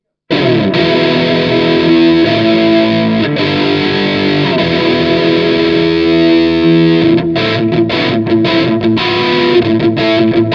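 Ibanez Prestige 1570 electric guitar fitted with Irongear pickups, played through heavy distortion on the bridge pickup, strums loud sustained chords with brief choppy stops near the end.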